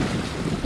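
Wind buffets the microphone aboard a 1961 Seafarer Polaris sailboat out on the water, a brief loud rumbling roar with gusty low-frequency thumps and no voices.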